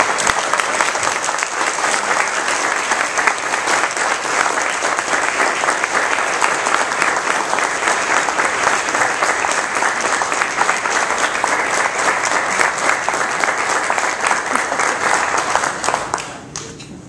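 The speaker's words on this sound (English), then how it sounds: "So if you could please join me in recognizing and applauding" An audience at an award ceremony bursts into loud, sustained applause with dense clapping and no break for about sixteen seconds, then cuts off sharply at the end.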